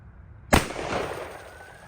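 A single loud, close gunshot from a Taurus Raging Hunter revolver chambered in .460, fired outdoors, makes a sharp crack that trails off into a lingering echo.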